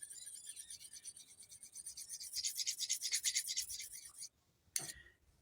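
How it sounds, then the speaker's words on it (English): A knife edge stroked on a ceramic rod makes a series of light rasping scrapes, close and fairly faint, growing denser and brighter before a short pause and one last stroke. "putting those little light scratches from the ceramic rod exactly where you want that edge to be"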